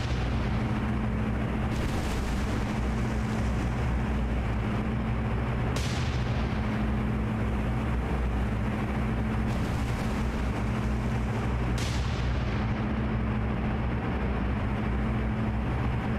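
Heavy naval ship guns fire in a War on the Sea battle, with a few loud booming shots spaced seconds apart over a constant deep engine and sea rumble.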